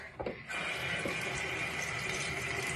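Tepid water running from a tap, a steady close splashing stream that begins after a brief quiet moment and continues evenly to the end.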